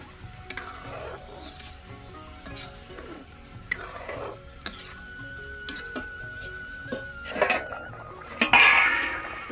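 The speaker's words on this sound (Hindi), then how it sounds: "अब इसमें डायरेक्ट छोला डाल देंगे" Chickpeas are added to a pan of fried onion and tomato masala on a desi clay stove, followed by repeated spoon clanks and scraping against the pan, with occasional sharp metallic knocks and light sizzling.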